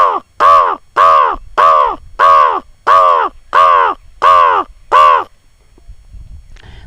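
A man imitates a crow's caw, nine loud, harsh, close calls at an even rhythm of about one per half second, then quiet.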